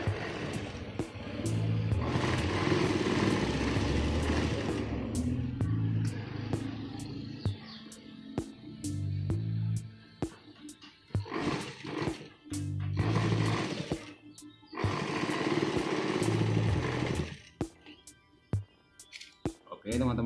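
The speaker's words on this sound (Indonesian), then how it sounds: "Setelah itu baru kita jahit ya teman-teman ya, bagian luarnya kita jahit." Sewing machine stitching the outer side of a men's trouser pocket, a steady mechanical whir running in bursts separated by pauses, with a person speaking in between.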